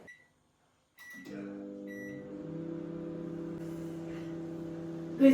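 A combination microwave oven with grill and convection modes hums steadily after a few short beeps, a cake placed inside for baking; the hum runs close and continuous, ending with a louder click.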